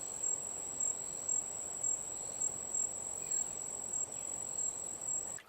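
A high, continuous insect trill rings steadily over a quiet background, with soft pulsing beats recurring about twice a second.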